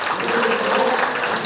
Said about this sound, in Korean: 여러분 힘찬 박수로 모시겠습니다.